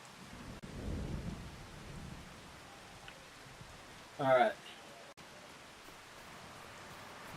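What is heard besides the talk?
rain in video game Farming Simulator 25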